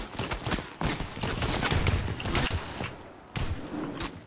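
Rapid gunfire in a Fortnite squad match, several sharp shots and bursts in quick succession at close range, with a brief pause before a final volley.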